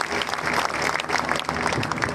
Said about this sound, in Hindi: जोरदार तालियां इस गुड़िया के लिए